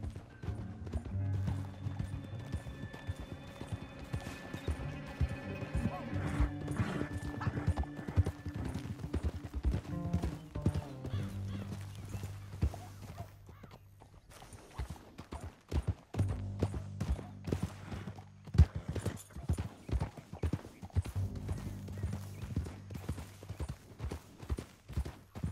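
Horses galloping in the video game Red Dead Redemption 2, continuous rhythmic hoofbeats with game music beneath, and a brief quieter stretch midway before the galloping resumes.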